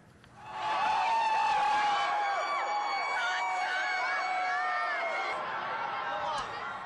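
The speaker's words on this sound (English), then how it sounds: "welcomed by an enormous crowd of fans" An enormous crowd of Kansas Jayhawks fans celebrates in downtown Lawrence after a game, many voices shouting and whooping together in a loud, sustained roar that swells in within the first second and carries on to the end.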